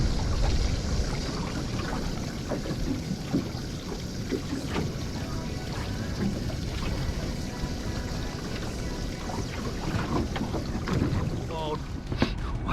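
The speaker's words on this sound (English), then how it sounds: "that was a wild ride home in the bass boat" A bass boat skims over choppy water on a winter fishing run off Newcastle, New South Wales, with a steady engine drone under slapping hull impacts and heavy wind buffeting.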